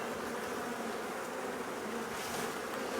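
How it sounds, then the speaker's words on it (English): Dense honeybee buzzing rises from a crowded hive frame, a continuous close drone of many wings at steady level with no voices over it. "Looks like, man, we got a lot of bees on here."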